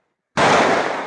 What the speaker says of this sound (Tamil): 1000 பாலா வெடிக்க போகிறோம்.